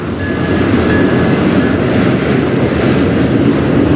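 A CN freight train hauled by two locomotives rolls past close by on the Strathroy Subdivision, a loud, dense roar of wheels with a rhythmic rattle and a thin, steady squeal above it.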